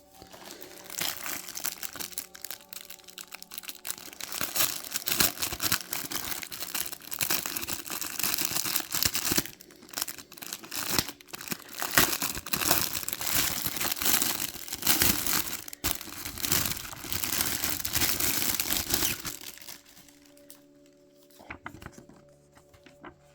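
A Panini FIFA 365 2025 card pack wrapper is torn open and crinkled, producing sustained close, loud crackling plastic and foil rustles for about twenty seconds before settling into quieter handling.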